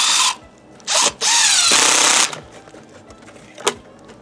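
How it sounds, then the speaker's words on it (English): A power drill whirs in several short bursts, drilling a hole into the side of a tree for tapping, revving up and down close by, with brief pauses between runs. "And then I just drill a hole in the side of the tree,"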